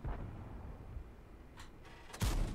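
A tank gun firing in World of Tanks, one sharp heavy blast near the end after faint engine and battle ambience and a few softer distant bursts, no talking.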